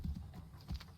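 Horse hooves clip-clop in Assassin's Creed 3, two close bursts of steps near the start and another pair late on, loud and alone over a low game rumble.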